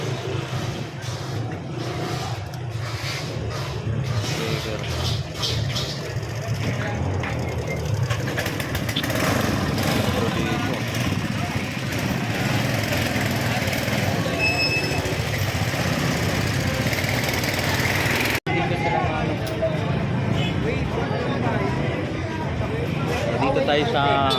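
Motorcycle engines run continuously at a busy outdoor spot, giving off a steady, broadband buzz and rumble for over twenty seconds while people talk throughout.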